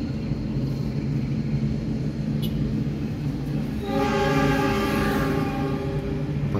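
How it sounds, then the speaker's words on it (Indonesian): A train rumbles past near a toll road construction site in Cigombong, West Java, then a loud, sustained horn sounds over the rolling noise, with no talking. "Sudah dua kali kereta api melintas"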